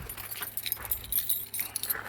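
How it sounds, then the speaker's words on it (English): A set of keys jangles in a pocket with continuous bright metallic clinking and rustling, close and fairly quiet, while someone digs for the right one. "let me find the set of keys that I actually need"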